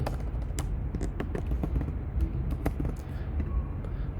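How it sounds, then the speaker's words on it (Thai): A recipient's address is typed on a computer keyboard, a fast, continuous run of close, clicky keystrokes at moderate volume with no voice over it. "ที่อยู่ผู้รับลูกค้าพิมพ์เลย"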